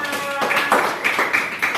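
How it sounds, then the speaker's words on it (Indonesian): A classroom of students clapping for a classmate, a short burst of scattered hand claps close by, over a faint voice at the start. "kasih tepuk tangan untuk Samana"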